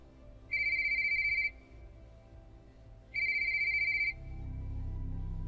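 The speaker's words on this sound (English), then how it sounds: "My phone rang." A default phone ringtone sounds in two identical electronic bursts, each about a second long, separated by a pause, fairly clear over a faint low background hum.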